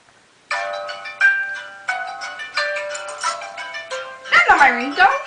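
An electronic ringtone plays a repeating melodic pattern of bright tones, fairly clear, ending in a warbling, wavering burst.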